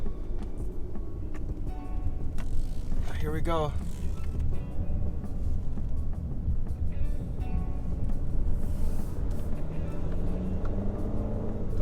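Low, steady engine drone of a VW Tiguan 2.0 TSI with a low-boost wastegate fault, accelerating up a ramp onto a highway, heard from inside the cabin under road noise, with people talking over it.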